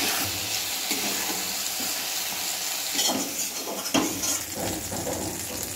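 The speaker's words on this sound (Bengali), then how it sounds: "আমি 10 মিনিটের মতো লাল করে ভেজে নেব।" Soybean chunks fry in hot oil with a steady, close sizzle. A few scrapes of a utensil against the pan break in near the end, and no one talks.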